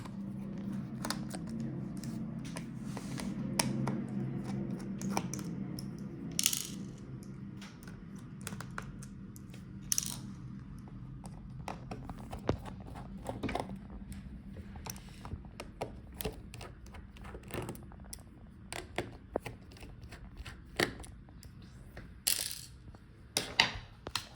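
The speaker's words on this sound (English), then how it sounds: "So let's take out the screws." Screws being backed out of a Lenovo ThinkPad X1 Carbon Gen 8 laptop during disassembly, with small repeated clicks and ratcheting ticks of a screwdriver over a steady background hum, close and fairly quiet with no talking.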